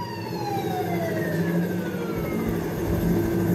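A wailing emergency siren sounds continuously, its pitch sweeping slowly downward, loud and steady against background traffic noise.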